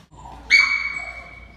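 A dog at an animal shelter gives a single high, whining yelp that rises out of quiet and trails off into a fading whimper, close by and loud.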